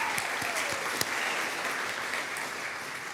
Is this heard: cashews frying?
no